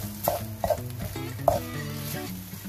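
Cucumber and egg stir-fry in a pan, with scraping stirs and soft sizzling. Several distinct clinks of the spatula against the pan punctuate the short, close, moderately quiet sound.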